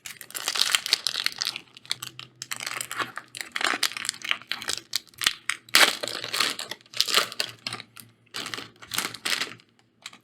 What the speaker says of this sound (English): Today we're cracking open Strixhaven School of Mages.